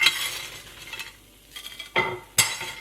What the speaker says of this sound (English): The sizzle is loud though.